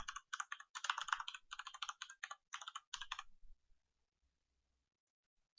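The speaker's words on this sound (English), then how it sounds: "I'm so used to just sort of typing it in, so that's what I do." Quick bursts of computer keyboard typing, close and crisp, rattle out in uneven clusters for about three seconds before stopping into near silence.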